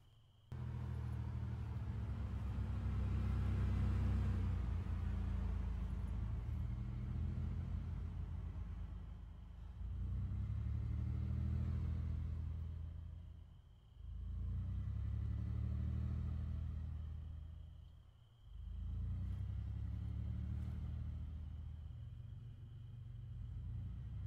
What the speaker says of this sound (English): I hear a car lingering at the southwestern side,